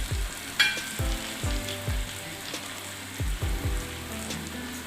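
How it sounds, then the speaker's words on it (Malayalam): Cooked vegetables for Kerala upperi fry in hot oil with a constant close sizzle, punctuated by several sharp stirring knocks against the pan at irregular intervals. "വേറെ പാത്രത്തിലേക്ക് വേവിച്ചത് നന്നായിട്ടൊന്ന് മൂക്കണം"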